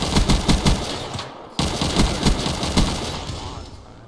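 Rapid automatic gunfire from a Call of Duty WW2 video game, dense bursts of loud shots with a brief cutoff midway before firing resumes, no talking.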